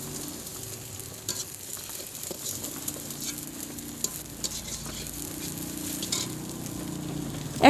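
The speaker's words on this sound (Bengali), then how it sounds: "একটা বড় সাইজের গোটা টমেটো দিয়ে ভালো করে পেঁয়াজের সাথে আমি ভেজে নিয়েছি" Onion and a large whole tomato fry in a pan, giving a steady, close sizzle broken by scraping stirring strokes and a few sharper clicks.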